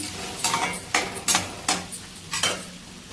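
A spoon scrapes and clatters rhythmically in a pan as turmeric and chili powder are stirred into tomatoes for a homestyle broccoli curry, with five or six crisp strokes over a faint sizzle.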